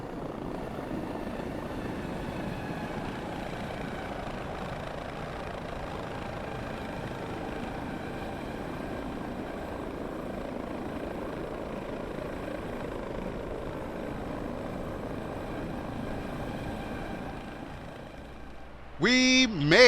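An eVTOL aircraft in X-Plane 11 flies with a steady whirring rotor drone that holds even and moderately loud, then shifts and swells near the end during the landing.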